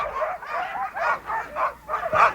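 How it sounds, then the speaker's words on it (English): Alaskan Huskies, a line bred from Eskimo and Indian dogs, barking at a breeding kennel, several dogs giving a rapid string of overlapping yelps and barks that carry steadily through the whole stretch. "Susan raises only Alaskan Huskies, a line bred from Eskimo and Indian dogs."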